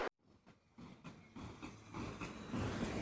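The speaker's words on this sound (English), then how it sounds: "humming sound of the train." Low rumbling hum of a moving train with rhythmic clacks, building in loudness after a brief silent start.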